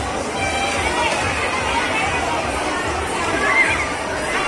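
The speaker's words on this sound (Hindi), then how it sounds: "दिखाते हैं काफी संख्या में भीड़ है" Dense crowd of Hindu pilgrims at a bhandara food distribution outside Shri Hari Baba temple in Sambhal, Uttar Pradesh, a steady close hubbub of overlapping voices and movement with no single voice standing out.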